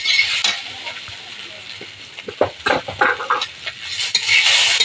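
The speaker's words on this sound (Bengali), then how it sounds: "এবার আমি ভেজে রাখা শুকনো লঙ্কাটা দিয়ে দিচ্ছি।" Dried red chillies frying in a pan in a home kitchen, a steady hiss of sizzling oil with clinks and scrapes of a spoon stirring against the pan, growing louder toward the end.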